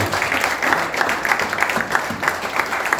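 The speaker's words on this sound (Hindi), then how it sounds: "कम ऑन, ताली बजा के प्रभु की महिमा" A church congregation claps together in praise during a Hindi sermon, a brief, rhythmic burst of steady hand claps from a group, fairly close and loud.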